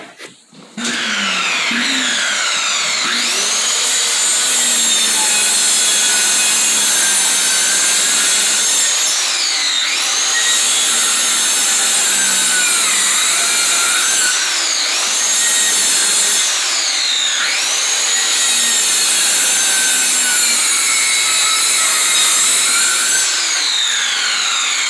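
A continuous, loud sawing grind runs nearly the whole time as a section of a mobile home bathtub is cut out, with repeated rising and falling whines as the blade strains through the cut.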